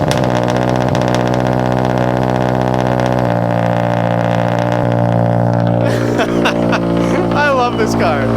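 A Honda Civic EG hatchback engine runs at a steady, loud, raspy idle after a cold start, with a shift in tone partway through. People talk over the engine near the end.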